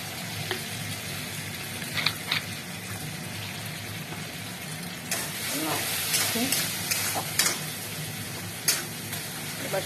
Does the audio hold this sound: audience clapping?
no